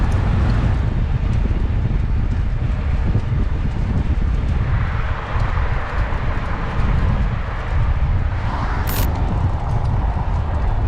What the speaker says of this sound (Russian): Тут, говорят, всегда дует ветер, и правда, тут встречный ветер, не сильный, но дует